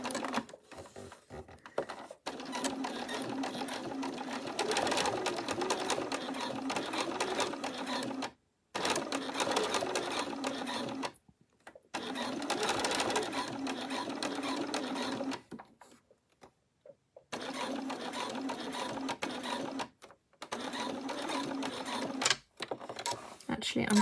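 A sewing machine with a walking foot stitches a unicorn bag in several bursts of rapid, even mechanical chatter, pausing briefly between runs, recorded close up with a voice talking occasionally.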